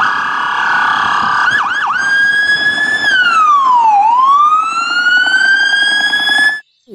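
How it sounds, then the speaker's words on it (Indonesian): A toy police car plays a loud, close electronic siren that warbles quickly, then sweeps down and back up in a long wail before it cuts off abruptly. "Widih, widih, ini mobil polisi."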